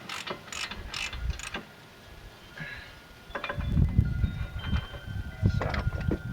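A hand ratchet clicks in quick bursts while tightening front brake parts on a 2008 Subaru Legacy, with short sharp pawl runs, a pause, then heavier close clicking and clunks.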